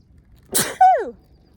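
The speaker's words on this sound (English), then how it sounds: "hang on, I'm gonna sneeze" One loud, close sneeze set off by wildflowers outdoors, with a quick sharp intake followed by an explosive burst that trails off into a falling whine.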